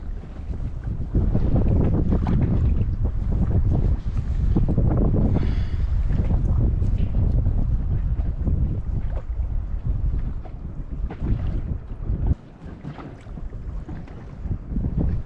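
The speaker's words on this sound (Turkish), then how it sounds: "Yine bu rüzgarda acayip sürüklüyor beni" Strong gusting wind roars across the microphone on an inflatable boat out on the Mediterranean Sea, a loud continuous rush with water slapping against the hull and a brief drop near the end.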